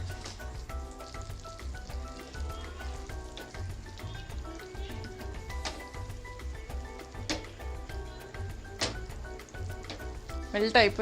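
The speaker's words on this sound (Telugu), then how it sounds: "సో ఇప్పుడు మనం దీంట్లోకి బటర్ మెల్ట్ అవ్వాలి" Butter melts in a pan for paneer butter masala, giving a continuous fine sizzle with scattered crisp pops and crackles, and a low murmur of voices sits underneath.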